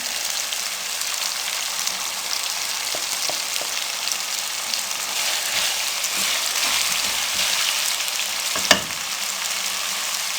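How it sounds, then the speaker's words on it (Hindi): Whole spice masala frying in hot cooking oil for restaurant-style dal mash, a loud, even, rain-like sizzle with scattered pops and one sharp clink near the end. "अब इसको 2 से 3 मिनट के लिए इसको हम अच्छे से भून लेंगे।"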